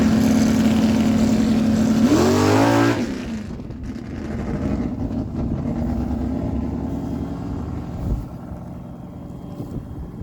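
A 1968 Plymouth Cuda drag racing car at a New Brunswick dragway roars loudly at high revs for about three seconds, then drops off into a fading engine rumble as it pulls away down the track.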